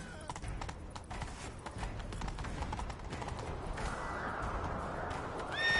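Rapid hoofbeats of a galloping horse in The Witcher 3: Wild Hunt, steady and close, with wind-like rushing noise and a brief whinny toward the end.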